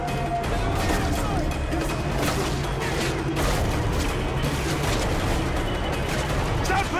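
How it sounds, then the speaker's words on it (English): Call of Duty mortar shells fired from a rooftop, a dense, continuous roar of launches and distant blasts with battlefield noise layered throughout, loud and unbroken. "Use the mortar and hose those bastards down"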